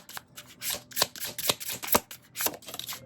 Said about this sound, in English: I cannot shuffle today.